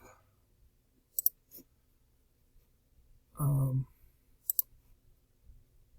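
A few sharp mouse clicks in quick pairs, close and faint against quiet room tone, with a short burst of speech between them.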